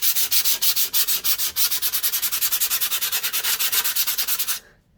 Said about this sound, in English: just want to sand off all of the rough bits so that it's nice and smooth